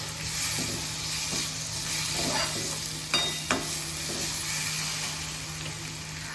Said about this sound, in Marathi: आता ह्यामध्ये शेवटी आपण टाकणार आहोत कढीपत्ता